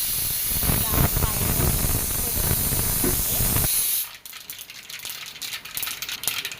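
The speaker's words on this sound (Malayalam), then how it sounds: "ഇതാ ഓയിൽ ഒഴിച്ചു കൊടുത്തു, ലേശം കടുക് ഇട്ട് കൊടുത്തു." Mustard seeds dropped into hot oil in a pan spit into a loud spraying sizzle with rattling pops for about four seconds, then fade to quieter crackles and scattered pops.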